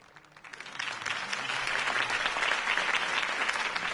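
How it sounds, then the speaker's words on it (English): Applause from a crowd at a political campaign speech in a Batman video game, swelling from scattered claps into sustained, dense clapping that stays loud to the end. "could have heard that applause"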